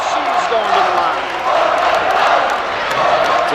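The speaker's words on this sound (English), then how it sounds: "Fantastic crowd in here tonight for the Bulldogs." Crowd noise fills a gym at a girls' high school basketball game, a steady loud roar of cheering spectators throughout, with a commentator's voice in the mix.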